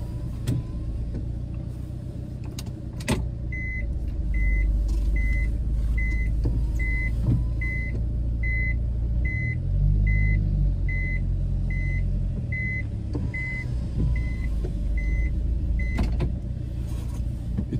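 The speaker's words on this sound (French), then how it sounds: "vous allez entendre l'essuie-glace qui fonctionne" Windshield wiper on a 1999 Subaru Sambar Dias II kei van running in the rain, a short regular squeak or beep repeating about every second, steady and close over the low hum of the idling cabin, with a few louder knocks.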